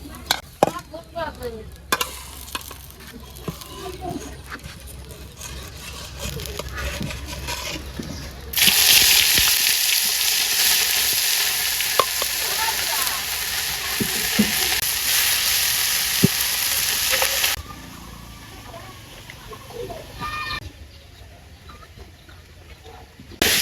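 Boiled leafy greens, with onion, hit hot oil in a pan and sizzle loudly and steadily for several seconds, with stirring scrapes before and after and a quieter crackle as the frying settles.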